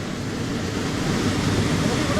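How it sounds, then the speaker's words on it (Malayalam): An electric motor pump runs steadily beside a river, lifting water into a canal. Its dense, even drone holds at the same level throughout, with no voices over it. "ആ മോട്ടർ കറങ്ങണതിൻ്റെ സൗണ്ടാണ്"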